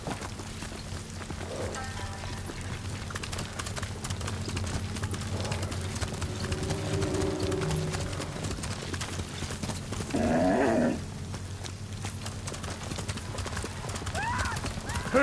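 A horse in Ghost of Tsushima gallops with rapid, steady hoofbeats, close and clear. A whinny cuts through midway, and voices speak over the ride.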